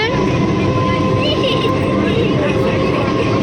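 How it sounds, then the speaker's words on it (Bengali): Steady rumbling of a moving train leaving Dhakuria and entering Jadavpur, continuous and fairly loud throughout, with a faint tonal hum riding over the clatter. "এই যে ট্রেন চলছে ঢাকুরিয়া ছাড়লো যাদবপুর ঢুকছে"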